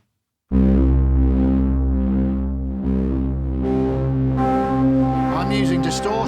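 Arturia MiniFreak synthesizer playing a sustained, harmonically dense tone through its distortion effect, loud and continuous with shifting pitch and gritty overtones, no talking.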